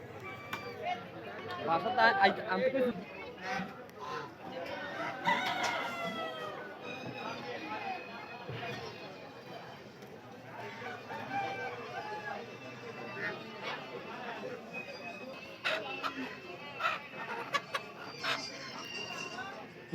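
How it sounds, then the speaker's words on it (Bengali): Village chickens and ducks gathered at a busy meat market, clucking and squawking intermittently amid chatter and a voice talking over them throughout, with scattered clatter in the background. "গ্রাম থেকে কালেকশন করা হাঁস মুরগি,"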